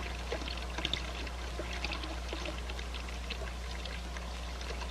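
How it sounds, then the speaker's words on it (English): Water bleeding from a manifold in a fluid-flow demonstration pours and trickles steadily at low volume, a soft continuous splashing over a constant low hum, with no speech. "I'll reduce the volume flow at successive sections by bleeding water from the manifold."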